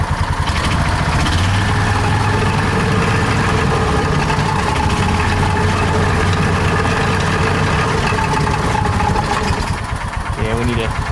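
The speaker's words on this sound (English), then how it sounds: "you can probably start to hear some of that belt noise or that clutch noise I was talking about" John Deere Gator 4x2 utility vehicle engine idling loud and close, with a rattling belt and clutch racket from a clutch fault, a steady running drone that continues throughout.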